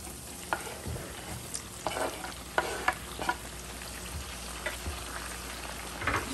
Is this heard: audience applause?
no